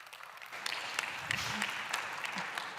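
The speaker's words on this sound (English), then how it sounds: "Let's give a round of applause." An audience at a climate resilience and agri-food knowledge event breaks into steady, dense applause of many hands clapping, moderately loud and continuous, with a brief voice near the middle.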